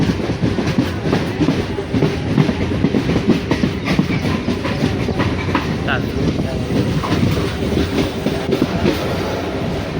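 Inside a moving passenger train, a constant rumble and rhythmic clatter of wheels on the rails continue throughout. Voices are heard faintly within the carriage noise.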